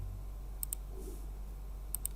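Keyboard shortcut keys pressed on a computer, a few soft clicks in two quick pairs over a steady low hum.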